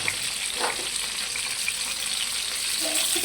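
Stuffed round gourds (tinda) fry over a low gas flame and are turned in the pan, giving a soft, steady sizzle with faint stirring and scraping.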